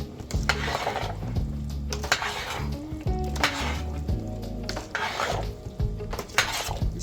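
A spoon stirs Ubo Nkong seasoned with Cameroon pepper and a Maggi jumbo cube in a cooking pot, giving repeated scraping and clinking strokes against the pot in an uneven rhythm, close and fairly loud, with no talk.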